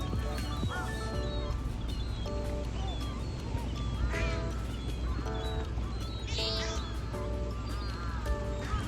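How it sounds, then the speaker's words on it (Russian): Seagulls and other birds crowd a seaside pier on a beach, a dense chorus of loud overlapping mewing cries and squawks that continues the whole time over a steady low rumble. "Там не только чайки, там что-то прям все породы птиц."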